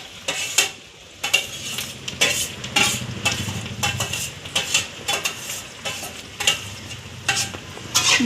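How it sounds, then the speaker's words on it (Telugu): Tomatoes fried in a pan, with loud, rhythmic spoon scrapes and clinks against the metal over a constant sizzle, close up and with no talking. "ఇందులో కరిగి ఉంచుకున్న టమోటాస్ కూడా వేసేద్దాం."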